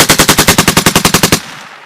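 A US Army M240 or M249 machine gun fires a rapid automatic burst of about fourteen rounds in even rhythm, loud and close, then stops abruptly.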